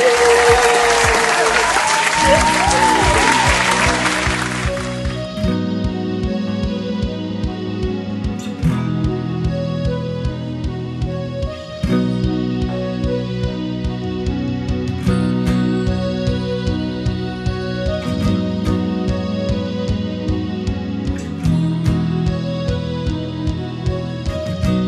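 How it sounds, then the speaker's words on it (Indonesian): A church congregation bursts into loud applause and cheering, which fades after a few seconds into music that carries on underneath. "Tepuk tangan langsung sorakan yang semeriah mungkin"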